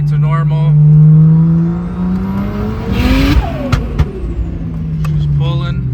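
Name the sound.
BMW 335xi car driving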